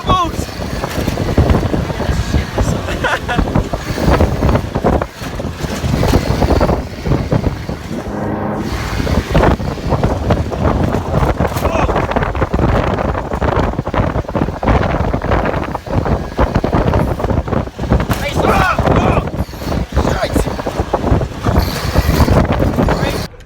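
Off-road dune buggies driving through dust: a steady, loud engine drone mixed with heavy wind buffeting on the microphone, continuous throughout with little variation, heard close from on board.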